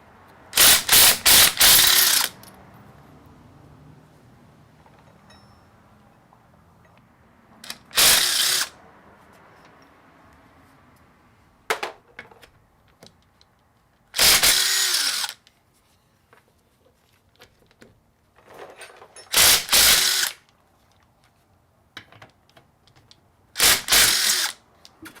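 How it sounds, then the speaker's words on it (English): Lug nuts come off a Subaru WRX wheel with an impact or power tool: several loud, close bursts of rapid mechanical rattling, each a second or two long, separated by quieter pauses with faint clinks. "The first step is to remove the lug nuts off of the wheel, and this would detach the wheel off of the drive axle."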